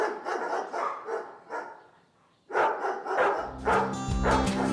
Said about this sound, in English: sounds like there's a dog fight going on